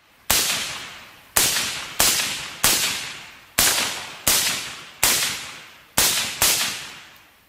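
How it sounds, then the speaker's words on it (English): Suppressed .223 rounds fired from a Bushmaster ACR rifle: nine loud, sharp cracks at a slow, uneven pace, each with a short decaying tail, and no voices. "Suppressed 223 rounds generally disappoint people who hear them for the first time. They still break the sound barrier and are very loud."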